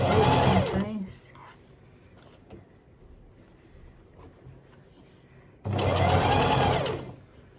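A sewing machine runs two close, loud bursts while stitching a seam through thick layers of a duffle coat, with a quiet stretch of handling between them.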